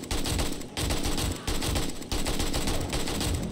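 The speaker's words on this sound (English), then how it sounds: "We're starting with the AK versus the shotgun." Rapid automatic AK rifle fire mixed with shotgun blasts in the zombie-horde survival game 7 Days to Die, a dense, loud, continuous barrage broken by a few brief pauses.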